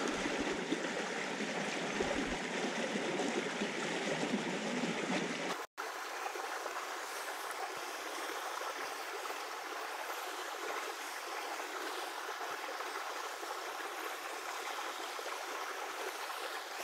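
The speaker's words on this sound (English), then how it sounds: "Small streams at its finest." Small stream flowing while wade fishing for smallmouth bass, a steady broadband rush of water that stays loud and continuous throughout, with a brief dropout and a slight change in tone partway through.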